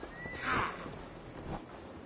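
A single horse whinny in Assassin's Creed Valhalla rises and fades, followed by quieter low sounds; fairly faint.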